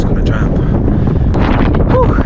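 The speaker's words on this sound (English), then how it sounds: "sorry for the wind" Strong wind buffets the microphone on a mountain in Mongolia, producing a constant loud, rumbling roar that fills the whole stretch, with faint higher sounds poking through.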